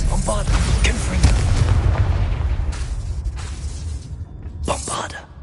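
A Bombarda spell in Hogwarts Legacy sets off heavy booming blasts that roll into a sustained rumbling explosion, with sharper bursts near the end, loud and close.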